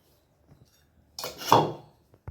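Chapati being cut into small pieces for chilly kothu chapathi: a brief scraping, clattering burst of a blade against a plate or board, with a few faint taps before and after in an otherwise quiet kitchen.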